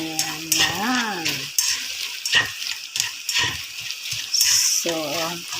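Fried chicken being stirred into vegetables and gravy in a pan, with scraping stir strokes over a steady sizzle, close by, while someone talks over it in bursts.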